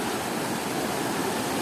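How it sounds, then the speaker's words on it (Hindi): Cold water pours over a mountain village road in Allai Valley like a waterfall, a loud, steady rushing roar that fills the whole moment without breaks or voices. "सड़क के ऊपर से पानी आबशार की सूरत में बह रहा"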